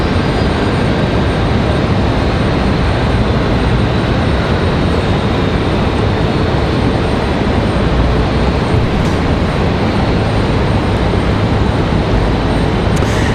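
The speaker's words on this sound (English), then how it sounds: "That's Spirit Jets coming from St. Louis. It's a Hawker 850 XP." A Hawker 850 XP business jet operated by Spirit Jets, arriving from St. Louis at Raleigh-Durham airport, gives a loud, steady broadband engine roar that holds unbroken throughout.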